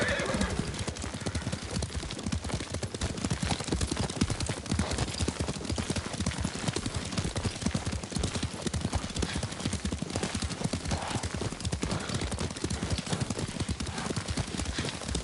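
A horse ridden in Ghost of Tsushima thuds along in a steady clip-clop of hooves, a continuous rhythmic gallop close up that runs throughout, with an occasional whinny and characters talking over it.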